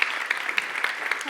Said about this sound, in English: A warm applause for Linda El Hassani.